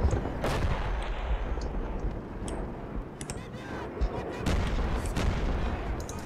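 Explosions and gunfire from an airstrike in the Combat Mission Black Sea war game, with deep rumbling blasts and sharp cracks over continuous low battle noise, a few distinct booms standing out.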